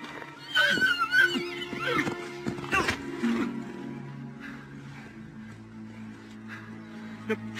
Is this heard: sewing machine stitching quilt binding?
no